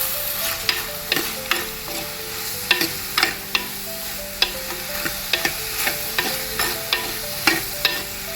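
Okra sautéing in a pan with tamarind and salt for a Kasaragod-style okra curry: a steady sizzle broken by regular scraping stir strokes, close and clear, with no voices.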